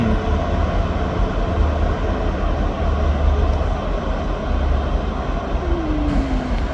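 A ScotRail passenger service from Glasgow Queen Street to Aberdeen pulls out of Dundee station with a loud, steady engine and wheel rumble. A faint falling tone slides down near the end.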